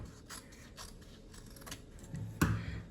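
Scissors snip through fabric while a sleeve is cut from a pattern, quiet close cuts and rustles with a sharper snip and scrape near the end.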